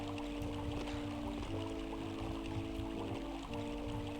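Running water flows near a waterfall in a Dark Forces video game level set in a robotics facility, a continuous rushing wash under a steady droning hum, with no talk.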